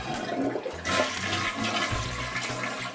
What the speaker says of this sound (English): why not use recycled water to flush the toilet?